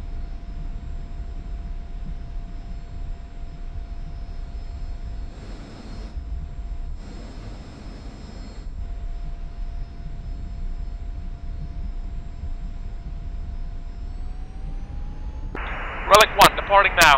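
Aircraft engines in the DCS flight simulator game departing a debris-strewn runway, a steady droning roar throughout with a faint tonal whine, ending in a louder burst, a voice briefly audible over it.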